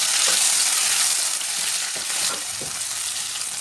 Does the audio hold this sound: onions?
yes